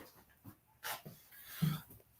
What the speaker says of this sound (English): my noisy little dogs